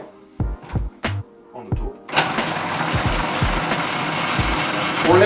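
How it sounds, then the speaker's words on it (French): Food processor mixing silken tofu for a vegan tiramisu, a steady loud whirring drone that starts after a few seconds of knocks and clatter and runs to the end, with brief talk near the start. "arrivé au robot, on va commencer par mixer le tofu soyeux"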